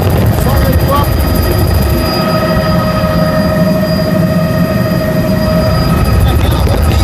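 A helicopter's steady rotor drone fills the scene, loud and close, with people talking faintly underneath, at the Fenajeep Jeep fair in 2014.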